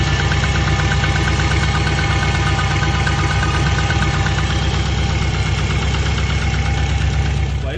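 A Subaru engine idles with a rapid, even knocking tick repeating throughout, loud and close, over a constant mechanical drone.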